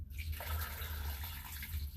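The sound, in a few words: water trickling in a drain line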